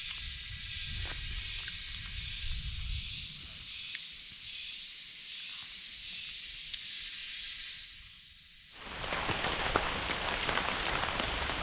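Heavy rain falls in a hillside forest, a hissing wash of drops that thins briefly and then surges back louder and denser toward the end.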